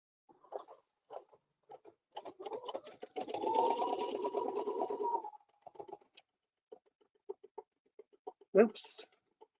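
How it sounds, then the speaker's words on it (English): A sewing machine stitches around fabric, with short bursts of clattering needle strokes and then a steady run lasting about two seconds, close and clear, followed by more brief stitches. "we're going to stitch all the way around"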